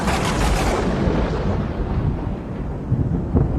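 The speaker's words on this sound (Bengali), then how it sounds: "এদিকে বারবার বিদ্যুৎ চমকাতে আরম্ভ করলো।" Rolling thunder from repeated lightning during a night storm in a Bengali children's cartoon horror story set in a jungle, a sustained loud rumble with no break that swells and settles, with a few sharper cracks near the end.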